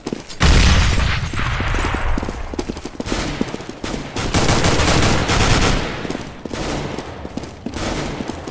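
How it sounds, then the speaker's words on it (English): A grenade explodes in CSGO WarZone with a heavy boom early on, followed by dense, loud bursts of rapid gunfire that keep rattling in waves, with no voice heard. "Throwing a grenade."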